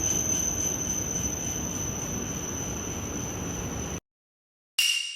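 A Tohoku Shinkansen Yamabiko bullet train rushes past with a loud, steady roar and a high whine, the sound cutting off abruptly near the end before a brief return.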